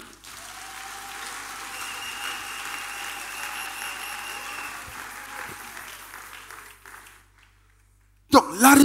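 A church congregation applauds in a sustained, steady wash of clapping that lasts several seconds before cutting off, with speaking heard along with it.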